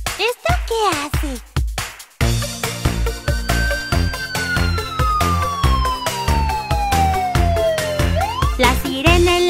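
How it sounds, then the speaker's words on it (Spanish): Ambulance siren from a Spanish children's Christmas rhyme: a loud, close wailing tone sweeping up and down over a rhythmic musical beat, with another siren-like sweep rising at the end. "La sirena en la ambulancia hace wii-u-wi"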